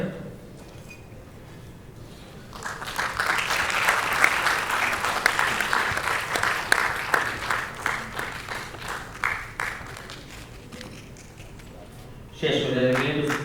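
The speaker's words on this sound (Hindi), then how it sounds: "जोरदार तालियां करते रहिए।" Applause at a stage performance event with dance, song and a play: a crowd claps loudly and steadily for several seconds before it thins out, and then a voice speaks over a public address system near the end.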